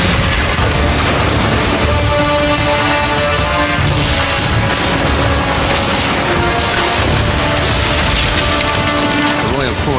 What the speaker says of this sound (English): Its special ability delivers 8 shots in a single blast